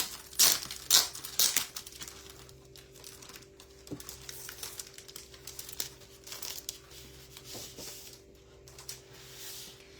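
Designer series specialty paper with gold foiling crinkles and rustles as it is handled, with a burst of sharp crackles early on and then softer intermittent rustling up close.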